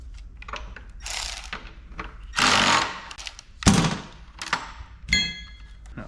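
A 21 mm wrench ratchets loose the factory plug on a GMC Hummer EV during a ditch light install. Bursts of close metallic clicking and grinding come one after another, with pauses between them.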